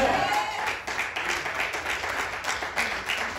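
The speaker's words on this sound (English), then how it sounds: "You want to give the Lord a clap offering for that?" A church congregation claps during a revival service, a steady wash of many hands in a live, reverberant room, with some background vocal sound mixed under the clapping throughout.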